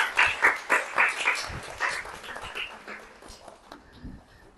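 Audience clapping at a clothes distribution event at a girls' ashram in Surat, with strong bursts at the start that gradually thin out and fade toward the end.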